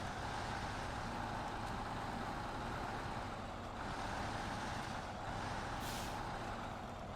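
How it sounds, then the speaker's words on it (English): A Russian truck engine in SnowRunner, a steady heavy diesel rumble with a hiss of air brakes near the end, loud and continuous with no talk. "I mean, this is showing how capable this truck is."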